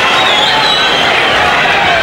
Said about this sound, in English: The large crowd rallying behind the respective fighters